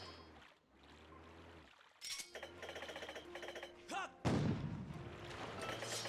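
Cannons fire in a video game dungeon on a sandship: a few heavy booming blasts with bright ringing tonal effects, one big deep impact near the end, over continuous ambient game sound and music.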